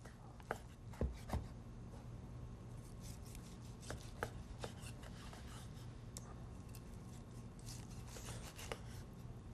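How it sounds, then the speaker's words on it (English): A knife slicing through a pork roast on a board, quiet repeated cutting taps and soft scraping strokes, faint and close with a low background hum. "Here's our beautiful pork roast. Just want to slice this"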